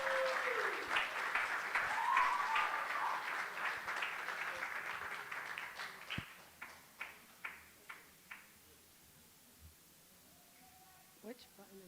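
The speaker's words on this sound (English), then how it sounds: "Everyone give her a round of applause." A conference audience breaks into sustained applause that gradually thins into a few scattered, separate claps, with voices faintly audible in the room.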